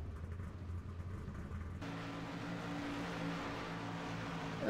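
Racing trucks in a T-Rex Grilles Truck Series race at Iowa Speedway, one spinning on pit road, give a steady, fairly distant engine roar and rumble with no talking.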